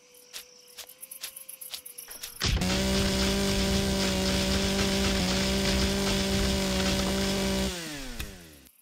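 A chainsaw in the video game Empyrion starts after a few seconds of ticking, then roars loudly and steadily for about five seconds before cutting off, with no talk.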